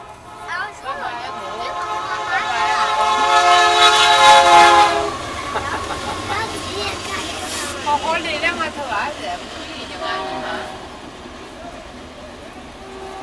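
A passing train near Arkabutla, Mississippi sounds its horn in a loud sustained blast that swells and fades over several seconds, with rumbling rail noise underneath and people talking.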